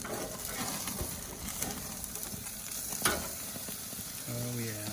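Food frying in a pan, a steady soft sizzle and crackle with occasional stirring scrapes and one sharper clink, moderately quiet throughout.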